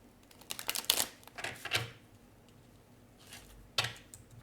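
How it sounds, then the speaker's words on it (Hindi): Tarot cards are shuffled in a few quiet bursts of riffling and tapping, close but faint, with pauses between. "One last shuffle."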